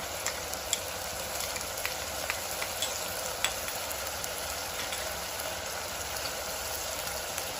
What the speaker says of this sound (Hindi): अब हम डाल देते हैं इसके अंदर जिंजर गार्लिक पेस्ट।